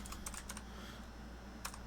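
Computer keyboard typing in short bursts of quick, light clicks, a flurry at the start and another near the end, close and fairly quiet over a low steady hum.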